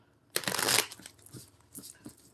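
A deck of oracle cards is shuffled indoors, one loud crisp riffle burst followed by a few softer taps and shuffles, close and quiet with no talking.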